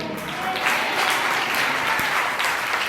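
A congregation claps together in worship during a Hindi sermon, a dense, sustained applause that holds steady throughout.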